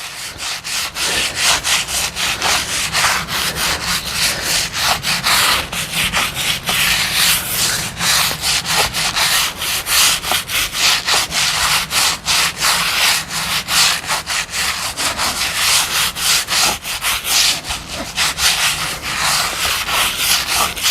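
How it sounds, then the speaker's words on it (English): A stiff brush scrubs sealer into the cracks of a concrete sidewalk, making a loud, continuous rasping rub in quick back-and-forth strokes, close by and steady throughout with no talk. "Make sure you scrub in the cracks. I go around all the cracks first."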